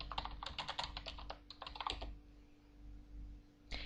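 Quick keystrokes clatter on a computer keyboard, a burst of rapid taps for about two seconds, a pause, then a single tap near the end, close and fairly quiet over a faint steady hum.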